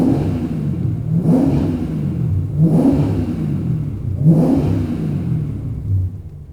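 A rare lightweight car's engine revs three times in even succession, each rise swelling to a flat, capped peak against a soft limiter near 4,000 rpm before dropping back to a low, throbbing idle.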